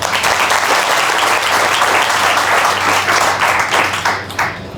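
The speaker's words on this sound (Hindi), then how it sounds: "बढ़िया प्रश्न ताली बजाइए।" A seated audience at an inspirational speaking session breaks into loud, sustained applause, a dense wash of many hands clapping that tapers slightly at the end.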